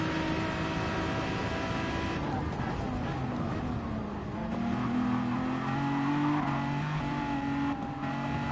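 Peugeot race car engine in Gran Turismo Sport during an endurance race at St. Croix, a steady loud droning roar with shifting pitch as the car runs through a bend and over a bridge.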